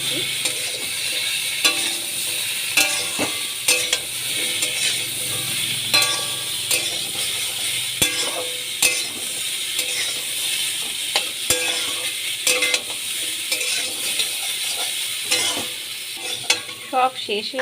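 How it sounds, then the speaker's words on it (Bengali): Green banana and mixed vegetables for Bengali shukto, stirred in a frying pan, with a constant close sizzle broken by frequent scraping and clattering strokes of the spatula throughout. "কাঁচা কলা দিয়ে দিলাম এবার ভালো করে নাড়িয়ে সব শেষে"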